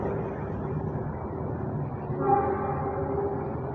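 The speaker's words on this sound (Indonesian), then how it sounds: "suara kereta api yang terdengar karena nggak jauh dari sawah" Train passing near rice fields at Kalibaru Tambun, a steady muffled rumble of rolling cars with a brief horn-like tone near the end, heard from a moderate distance.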